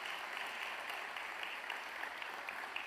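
A church congregation applauds during a Spanish-language service, soft continuous clapping heard from a distance, evenly textured and unbroken throughout.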